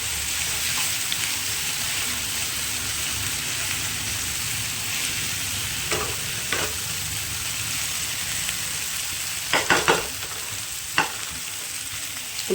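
Boiled potatoes are stirred into a sizzling pan mixture for prawn chops, giving a steady frying hiss with a few scraping strokes of the spatula near the end.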